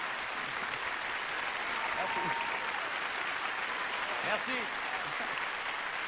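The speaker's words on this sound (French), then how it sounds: "Applaudissez très fort" A theatre audience at a televised variety comedy show applauds in a steady, dense wash of clapping that lasts throughout, while someone briefly speaks a few words over it.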